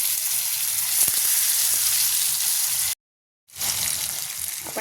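Potatoes hit hot oil seasoned with cumin, asafoetida and red chilli powder, giving a loud, continuous sizzle and crackle close by, broken by a brief silent gap before the frying resumes.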